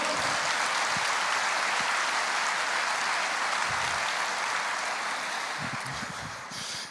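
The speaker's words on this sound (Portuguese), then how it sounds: "Você aplaude o Senhor ou não?" A church congregation applauds in praise of the Lord, a dense, steady wash of clapping that holds for several seconds before thinning slightly at the end, with no voices over it.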